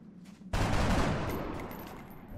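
Rookie soldiers firing weapons over low cover in XCOM: Enemy Within with the Long War mod, a sudden loud burst of gunfire after a quiet moment, the roar decaying slowly with scattered crackles.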